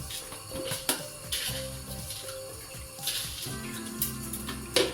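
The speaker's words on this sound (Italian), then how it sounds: "Le patate vanno lavate prima, le immergiamo nell'acqua e aggiungiamo un pochino di sale grosso." Potatoes being washed and immersed in water with coarse salt in a kitchen, with steady splashing and running water over a bed of soft background music, punctuated by a few sharper clinks.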